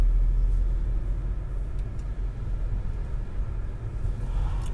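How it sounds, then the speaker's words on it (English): A car drives slowly through a residential street of crescents and small roads, giving a steady low engine and tyre rumble heard from inside the cabin, fairly quiet and even throughout. "So, folks, we're driving around here."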